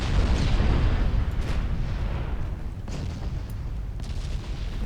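Torpedoes strike a sinking warship in the naval battle game Ultimate Admiral Dreadnoughts, producing rolling, booming explosions that merge into a heavy, continuous roar with occasional sharper bursts.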